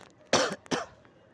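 A person with a sore throat gives two sharp, close coughs in quick succession, followed by quiet.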